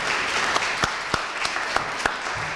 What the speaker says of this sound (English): A round of applause for a guy who's done a super job today.